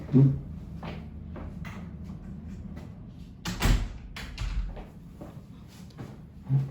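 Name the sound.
closing a door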